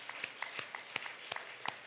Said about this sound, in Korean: 깨닫는 분만 박수로 영광 돌리겠습니다